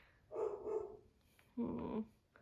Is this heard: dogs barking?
yes